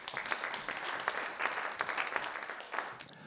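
Audience applause at an awards gala honoring a gymnasium mathematics teacher named county teacher of the year, a steady patter of many clapping hands, moderately loud and continuous with no voices over it.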